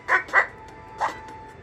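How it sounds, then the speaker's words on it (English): A dog gives three short barks, two in quick succession and a third after a brief pause, clear and close with a faint steady tone behind them. "this is a silhouette of a dog"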